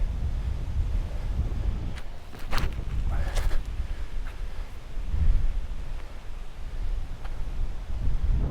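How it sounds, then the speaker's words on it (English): Wind blows across an open golf course, buffeting the microphone with a loud, low, continuous rumble that swells in gusts, with a few faint sharp knocks and clicks over it. "I'm going chicane because it's very windy out"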